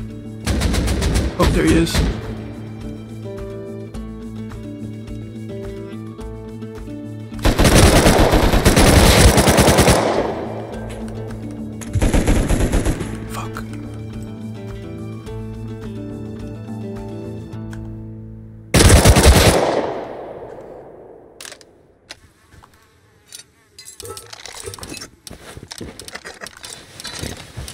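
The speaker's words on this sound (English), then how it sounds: "I could have swore I just heard an AK, and this dude is MP5." Automatic MP5 and AK gunfire in the survival game Rust, several loud sustained bursts of rapid shots with quieter stretches of game ambience between, and someone speaks briefly.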